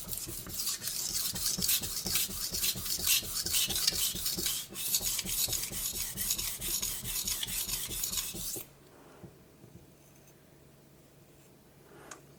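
A knife blade rasps back and forth in steady, rapid strokes on a Naniwa whetstone while chips are being fixed, close and fairly loud for about nine seconds, then stops, leaving a quiet room.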